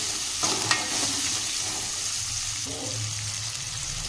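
Onion frying in a pan for a radish curry, a steady close sizzle with a couple of brief stirring knocks near the start and a low background hum, no talking.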